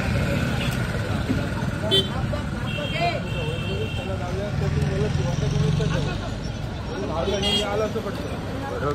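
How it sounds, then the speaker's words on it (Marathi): Tempo vans pull away carrying wedding guests in a busy procession. Steady engine and road noise blends with a crowd's babble and an occasional horn toot, all close by. "टेम्पो आले आणि फटाफट गाडी निघतात वराड्यांचे"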